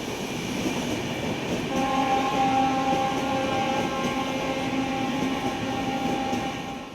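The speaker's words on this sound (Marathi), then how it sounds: "या व्हिडिओमध्ये ट्रेन ताशी 180 किलोमीटरपेक्षा जास्त वेगाने धावताना दिसते" A Vande Bharat sleeper train runs at over 180 km/h, a constant loud rolling rumble with a sustained tonal whine from the moving carriages, no voices.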